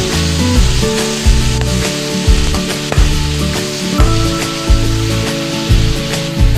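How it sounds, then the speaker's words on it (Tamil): Mustard seeds crackle and sizzle in hot oil in a pan while tomato upma is cooked, a loud steady frying hiss with repeated sharp pops and stirring scrapes, no talking. "கடுகு நல்லா வணக்குங்க ஃப்ரெண்ட்ஸ்"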